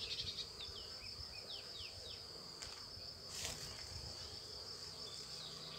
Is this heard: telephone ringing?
no